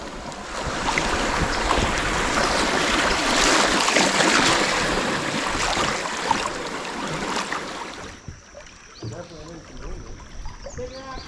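Water rushes and washes steadily around a canoe floating the shallow, narrow Current River in Missouri, with wind buffeting the microphone. The flow drops away abruptly near the end, leaving quieter splashes and a few voices.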